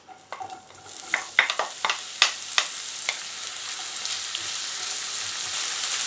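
Onions frying in oil in a pan give a rising, continuous sizzle, with a burst of clattering stirs and scrapes near the start that then settles into a steady hiss.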